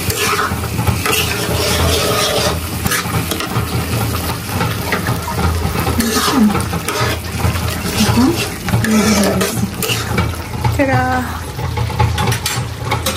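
Food fries in a pan while being stirred, a continuous loud sizzle with intermittent scraping strokes, and a voice speaks briefly over it at points.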